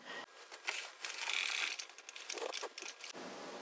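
An LK150 knitting machine carriage slides across the needle bed knitting sport weight yarn, giving a close, continuous clattering rasp with small mechanical clicks.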